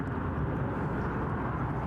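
A Loganair plane overflies Newcastle International Airport instead of landing, a steady, distant low roar that holds even throughout.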